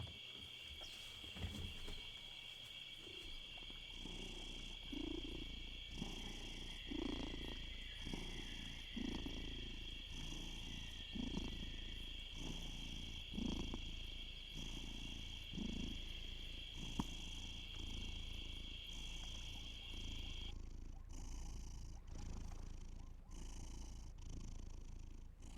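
A white cat purrs close up in a steady, rolling rhythm for most of the stretch, the purr fading out near the end, with no talking over it.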